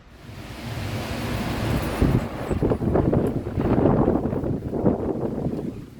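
A thunderstorm with heavy rain in Zurich, Switzerland: a dense, continuous roar of rain and wind with deep rumbling swells, loud and close, and no voices.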